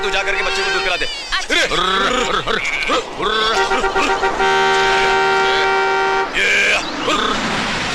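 A vehicle horn honks loudly at close range, with a long sustained blast and a shorter toot afterward, following someone speaking on a rural road where sheep block the way.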